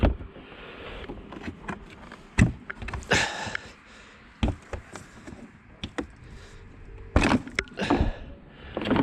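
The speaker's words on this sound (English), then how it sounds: "put it in a good old service mode, and pull the engine cover off" Plastic engine cover pulled off a 2009 Mercedes-Benz W204 C200 in service mode, giving a series of sharp clicks, clunks and rustling handling knocks at close range, with a couple of louder scraping bursts, and no talk.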